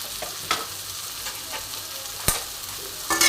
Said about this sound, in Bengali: ভালো করে আমি নেড়ে নেব